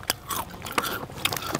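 Crunchy bim bim snack being bitten, with several sharp crisp crunches spread across a short moment, close to the mic and with no talking.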